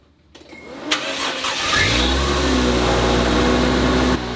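A Toyota Soarer's 1JZ engine with a Blitz blow-off valve cranks briefly, catches with a sharp rise in noise, and settles into a steady, loud idle up close.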